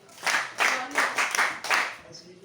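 Students clapping together at a school sanitation education visit in Agogo, heard as several loud bursts of group applause in an indoor room, with a voice talking between the bursts.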